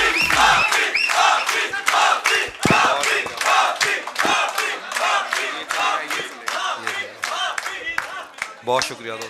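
A crowd at a mushaira poetry gathering for a poet erupts in loud cheering and shouting with scattered clapping, many voices whooping and yelling close by in bursts that rise and fall.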